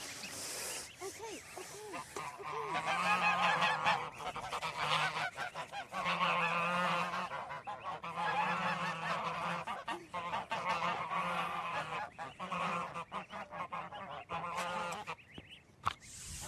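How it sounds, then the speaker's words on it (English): Baby geese honk loudly and close by, a dense run of overlapping, repeated nasal calls at a farm that rise and dip in waves without pause. "I wanted you to get baby geese ASMR because it's cute, but it turned out being really cringe and loud."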